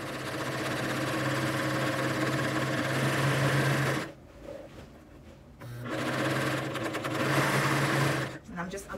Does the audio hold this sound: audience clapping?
no